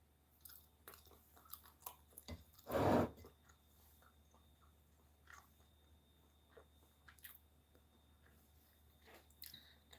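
Late-night snack eaten close to the mic, quiet wet chewing and small bites throughout, with one louder crunchy burst of chewing partway through.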